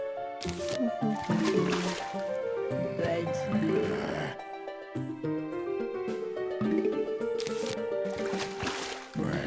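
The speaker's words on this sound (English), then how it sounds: "all the water sounds are confusing me" Water effects from the video game Plants vs Zombies HD gurgle and splash in quick repeated bursts over layered game music and chimes, busy and continuous throughout.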